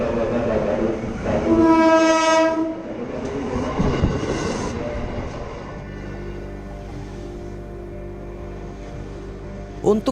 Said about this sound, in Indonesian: Untuk yang sering naik kereta api, pasti akrab dengan suara tersebut.